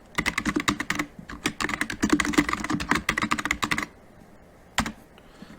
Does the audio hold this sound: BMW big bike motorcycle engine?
no